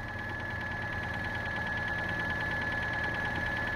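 A car engine idles steadily after a jump start, a close, even mechanical hum with a faint knocking pulse and a thin steady whine over it, and no voices.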